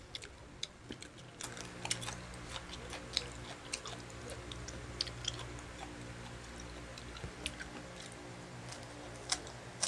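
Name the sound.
chewing and eating onion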